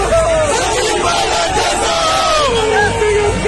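A dense political rally crowd chanting slogans in support of Sachin Pilot, loud and continuous massed voices with rising and falling yells filling the whole stretch.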